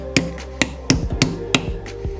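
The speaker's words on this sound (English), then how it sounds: "and then hammer that flush" A hammer taps a pin flush into a Brembo brake caliper on a Genesis V8: about six sharp metallic knocks at a steady rhythm, roughly a third of a second apart, close and clear over a low hum.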